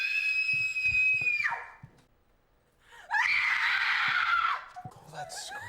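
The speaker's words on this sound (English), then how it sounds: "All that screaming?" A person lets out loud, close, high-pitched screams: a long shriek that drops off, a short pause, then a second harsh sustained scream, followed by a few faint vocal noises.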